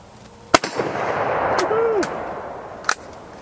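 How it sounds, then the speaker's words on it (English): A 1916 Oviedo Spanish Mauser 1893 rifle chambered in .308 fires a single loud sharp shot at an outdoor range, followed by a decaying echo and a few later clicks. "let's go ahead and blast a round out of Old Sketchy here"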